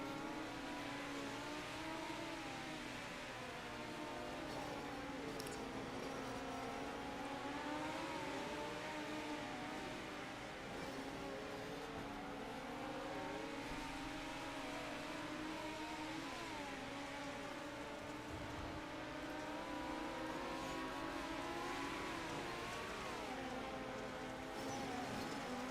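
Midget race cars of the Mighty Midget Series lapping the Kokomo track, a steady layered engine drone with wavering pitch as several cars circle continuously at mid distance, with no talk.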